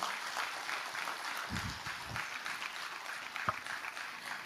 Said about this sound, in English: maybe a general round of applause to everyone